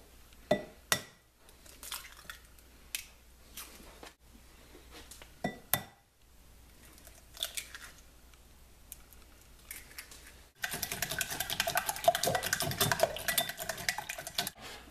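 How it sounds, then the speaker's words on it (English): Eggs for a spinach quiche beaten in a bowl: scattered utensil clinks against the bowl, then a steady, rapid, loud whisking rattle through the final third, with no talking. "Put all your eggs into a bowl and mix them up well."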